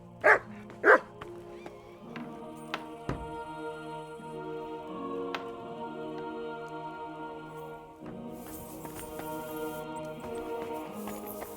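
A dog barks twice in quick succession in the medieval video game Kingdom Come Deliverance 2. The barks are close and sharp, followed by quiet, steady ambient game tones with no further barking.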